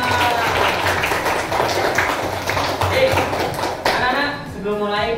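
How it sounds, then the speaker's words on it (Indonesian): A classroom of children claps hands together at a teacher's prompt, busy overlapping claps at close range with chatter and voices mixed in, then a brief squeal and a shift near the end. "tepuk tangan dulu kita semua."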